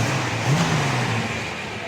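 A 1965 Chevelle Malibu engine idling in gear, a smooth, quiet, steady low rumble with a slight swell in the middle, close and continuous without talk.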